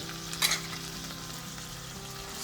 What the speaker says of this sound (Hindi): You can see how beautifully the keema, the minced mutton is being cooked in all the spices.